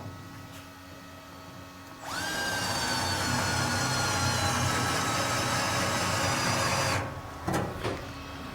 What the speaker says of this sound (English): See if I can drill a hole with that real quick.